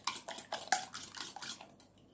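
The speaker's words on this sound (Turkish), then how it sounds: "Öncelikle yumurtaları bir kaba koydum. Şöyle çırpıyorum." Eggs being whisked in a bowl, a quick run of rapid, close clinking strokes of a utensil against the bowl that fades out after about two seconds, quiet, with no speech.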